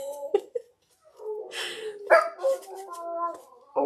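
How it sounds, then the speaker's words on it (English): A Chihuahua and other dogs in a house full of animals howl and bark, with a few sharp yips followed by longer wavering howls that rise and fall. The sounds are fairly near and moderately loud, and a person speaks briefly between them. "So I have my Chihuahua in here, and he's howling too."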